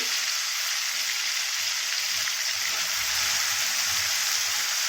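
Chopped tomatoes fry in hot oil for a dal tadka, giving a steady, loud, close hiss and sizzle with no talking.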